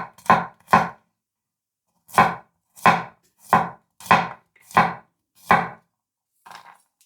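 A knife slices fresh garlic cloves on a cutting board, with nine crisp, evenly spaced chops close up, then a faint final tap and no voices.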